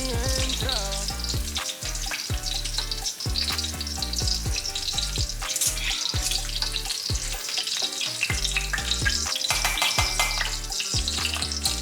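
Chicken flautas fry in hot oil in a home kitchen, a steady, dense crackling sizzle that runs loud and unbroken, with occasional stirring and no one speaking.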